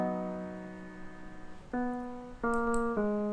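The piano part, processed with EQ, plays sustained chords, one held tone followed by two fresh chord attacks, clean and moderately loud with no voice.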